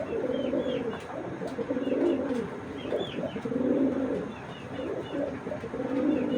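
Silver pigeon cooing in repeated rolling, throaty phrases, close and clear, with faint chirps and light background noise and no talk.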